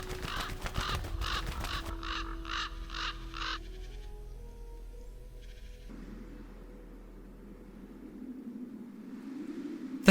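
Ravens give a rapid series of harsh, repeated caws, loud and close at first and then in spaced bursts, before fading into a softer outdoor hum and wind.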